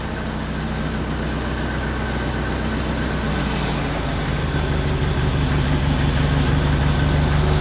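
A lifting machine's engine runs steadily during an outdoor clamp test, a loud continuous low rumble that builds slightly in strength over several seconds.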